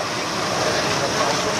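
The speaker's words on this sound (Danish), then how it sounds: "Det blæser godt." Wind blows hard across the Santa Rosa, a ship out at sea heading for a lagoon, a steady full roaring rush buffeting the microphone, loud and unbroken for the whole moment.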